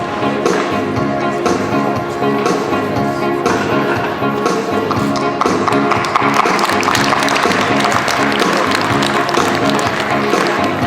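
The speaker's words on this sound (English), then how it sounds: "Let's have a round of applause for them, please." Audience applause at an Interact Club installation ceremony as badges are pinned on office bearers, a dense, steady wash of many hands clapping for the full stretch, loud and close, with faint murmuring mixed in.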